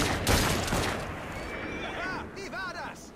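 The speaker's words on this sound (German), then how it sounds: "Schieß deine Salve!" Rooks gang members firing a rapid gun volley in Assassin's Creed Syndicate, a quick burst of crackling shots up front fading into chaotic street noise, with a voice talking over it.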